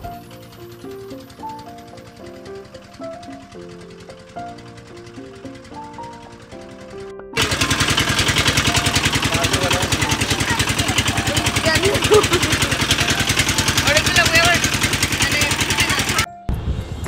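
A hired trawler boat's engine on the way to Ratargul in Sylhet, a loud, steady, rapidly pulsing chug that cuts in after several seconds of soft music and runs close by until a brief break near the end.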